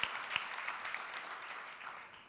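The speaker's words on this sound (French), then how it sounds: "Il faut l'applaudir." An audience applauds at a dental forum diploma ceremony, faint, distant clapping with a few sharper claps near the start, fading gradually over a couple of seconds.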